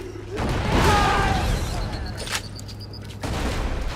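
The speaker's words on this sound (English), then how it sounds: "One grenade, took them all out." Grenade explosion in Borderlands 2, a loud boom that swells early and decays into a rumbling, crackling tail, with a short burst of gunfire-like clatter afterward.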